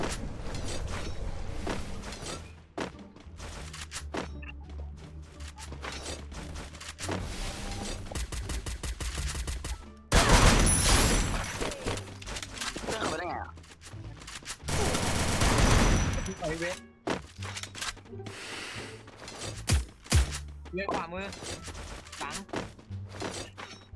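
Rapid gunfire bursts from the mobile shooter Free Fire, loud dense volleys with brief pauses, the heaviest stretches near the middle, while a player talks over the game audio.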